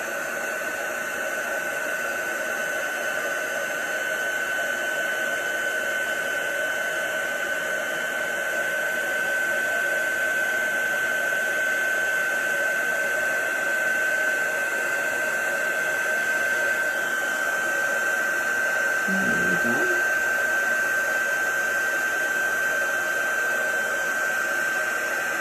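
A heat tool blows a steady, loud whirring hiss up close while melting embossing powder on a card, droning unbroken throughout with a brief low bump near the end.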